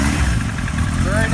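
A 1978 Kawasaki KZ1000A motorcycle engine fires up and settles into a steady, loud, close-range running note with no gaps.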